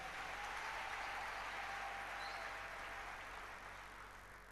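A church congregation applauds loudly and steadily in a dense wash of clapping that holds strong throughout, easing off slightly at the end, with no speech over it.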